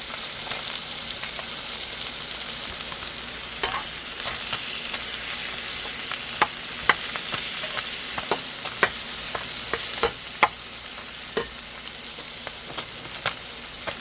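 Carrots sizzle and fry in a hot pan for pancit canton, a steady crackling hiss punctuated by sharp clicks and taps of a utensil stirring at irregular intervals.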